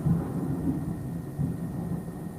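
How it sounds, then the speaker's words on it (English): Thunder from a thunderstorm, a low continuous rumble that swells and fades in rolling waves, fairly close and steady throughout with no voices. "I heard the thunder."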